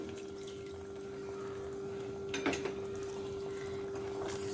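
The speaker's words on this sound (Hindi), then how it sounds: "पानी डालेंगे," A bowl of water pours briefly into a pot of saffron chicken, a short splashing rush over a steady background hum.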